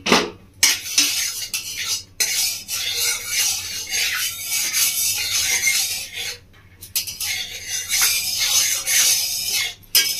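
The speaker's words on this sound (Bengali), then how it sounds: "ভালো করে ঘিটা গোটা কড়াইয়ের মধ্যে ছড়িয়ে দেবো।" A spoon scrapes and rubs around a hot iron wok while spreading ghee, giving continuous loud metallic scraping strokes with short pauses between passes and no talking.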